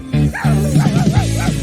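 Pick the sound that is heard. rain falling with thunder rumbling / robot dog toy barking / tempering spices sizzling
robot dog toy barking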